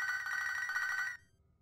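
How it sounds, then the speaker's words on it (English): A telephone rings in a Pokémon video game where the player is stranded on an island, a steady electronic ring lasting about a second before cutting off, heard alone and close. "Oh, the phone's ringing again."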